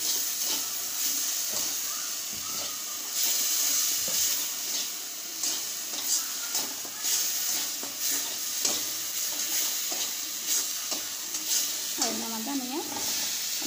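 Potatoes frying in a pan at a fair, with a steady sizzling hiss and intermittent stirring scrapes, heard close and moderately loud, with faint background voices.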